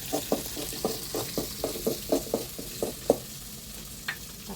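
Chopped shallots and tomato fry in a curry pan for a rustic chicken curry, a steady sizzle with a regular series of spoon scrapes and taps against the pan, close and moderately quiet.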